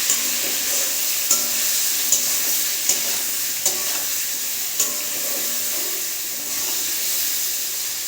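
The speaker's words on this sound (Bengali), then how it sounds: "এবারে নেড়ে চেড়ে সবজিগুলোকে ভালো করে ভেজে নেব।" Vegetables with turmeric and salt fry loudly in a pan, a constant close hissing sizzle broken by regular scraping stirs about once a second, with no voices.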